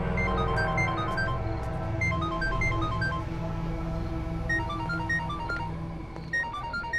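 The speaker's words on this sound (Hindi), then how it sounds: "कब से मेरा फोन बज रहा है, इधर लेके आ" A repeating electronic ringtone melody plays steadily over a low music bed, its short bright notes cycling without pause.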